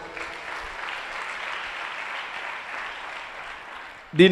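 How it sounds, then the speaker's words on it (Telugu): A church congregation claps together in sustained, steady applause that fills the room at moderate loudness, ending with a brief louder burst. "కొట్టు చప్పట్లు ఒకసారి"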